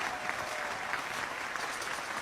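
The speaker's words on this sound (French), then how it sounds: "Applaudissez-les, s'il vous plaît." Steady applause from an audience at an evening launch event, a continuous wash of clapping heard at moderate distance, fairly quiet and unbroken.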